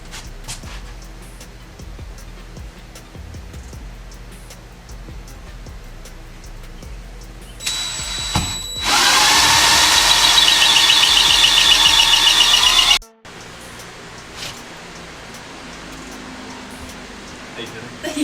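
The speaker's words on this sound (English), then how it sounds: "take the hole saw and basically get that area drilled out" A hole saw cuts through welded steel trailer plates, giving a loud, steady, high grinding whine that lasts about four seconds and then stops abruptly, amid workshop background noise.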